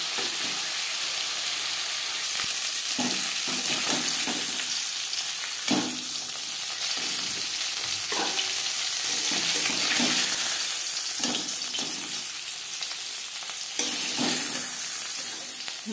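Aar fish head frying in hot oil, a steady sizzle running throughout with repeated scraping and stirring knocks from a spatula at close range. No one speaks.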